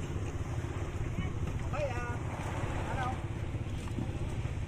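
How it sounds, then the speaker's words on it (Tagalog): A boat ride to Fortune Island, carrying a constant loud engine drone and rushing wind and water noise throughout, with a faint voice briefly heard under the din. "Ito kami sa nakasakay sa bangka ni Jeff sa Merian."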